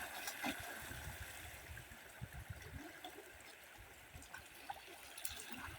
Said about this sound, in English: this water seems to be too much and it's flowing heavily